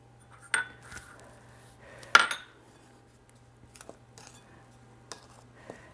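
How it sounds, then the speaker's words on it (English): Flour, sugar, baking powder and salt are stirred together in a bowl: a few sharp clinks of a utensil against the dish, then lighter scattered taps and scrapes in an otherwise quiet room. "And I'll stir that together"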